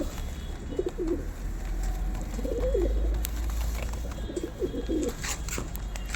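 Pigeons coo in low, rolling bursts, three or four phrases over a steady background hum, fairly close, with no talking.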